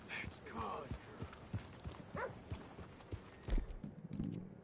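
Horse hooves in Red Dead Redemption 2 strike in a quiet, regular clip-clop, with people talking over them.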